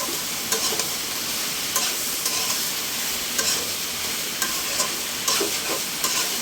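Vegetable stalks (loti) are stirred and mixed with spices in a frying pan, producing continuous sizzling broken by regular scraping strokes of the spatula.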